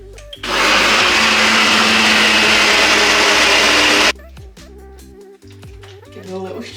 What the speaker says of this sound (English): So we're going to now blend it, all of it together to make that pancake batter